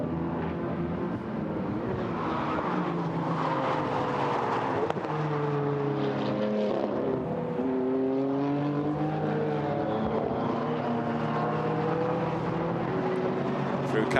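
GT4 race cars at the Paul Ricard circuit, engine note rising and falling as cars pass, with a commentator talking over the steady motor roar throughout.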